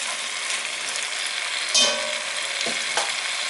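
Garlic frying in a pan while being stirred, a steady close sizzle with a few sharp scrapes and clicks of the utensil against the pan, no voices.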